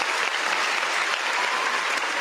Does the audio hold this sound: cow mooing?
no